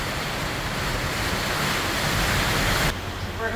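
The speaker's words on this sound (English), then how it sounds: "This is in the neighborhood of 25-mile-an-hour winds here with gusts probably in the 30s." Strong wind of around 25 mph with gusts into the 30s roars around a boat on a mooring ball in a protected cove, a dense, steady rush that drops off abruptly near the end.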